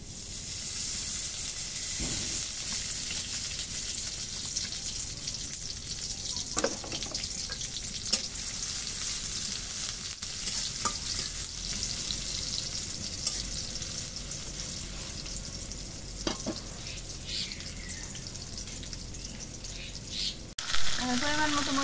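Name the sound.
oil added to pan, onions frying on clay stove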